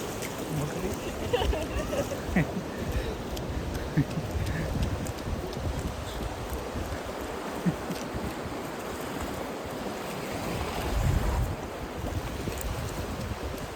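Sea waves wash onto Dunkirk beach in France, a steady rushing surf with a swell near the end, mixed with strong wind buffeting the microphone.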